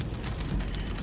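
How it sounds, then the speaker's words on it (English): Rain patters continuously on a car in Northwest Indiana while the wipers run, heard from inside the car as a close, steady hiss with low rumble for a brief moment, no voices. "So, I have my wipers on and it's raining."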